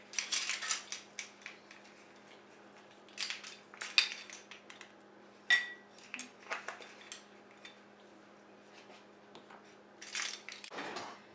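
Spice mixture of cinnamon, nutmeg and cloves stirred quickly with a spoon, light clinking taps against a bowl coming in short bursts between quiet pauses.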